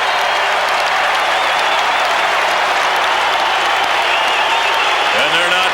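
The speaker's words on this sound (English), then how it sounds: "And they're not booing. They're going Coomer. Coomer." A dense, steady roar from a large baseball crowd fills the stadium as fans chant a player's name, with a broadcaster talking faintly underneath.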